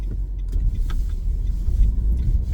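Interior rumble of a car driving through road traffic, a low steady engine and road drone with faint muffled sounds of other vehicles passing outside.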